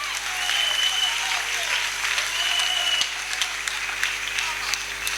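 A church congregation at a Sunday school presentation applauds for the Lord Jesus Christ, sustained crowd clapping at an even level throughout, with a few raised voices mixed in.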